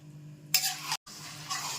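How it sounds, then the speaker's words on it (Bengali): Cabbage curry with peas is stir-fried in a pan, with two bursts of scraping and sizzling from a spatula against the pan, separated by a brief pause. "পুরো কষাতে থাকবো।"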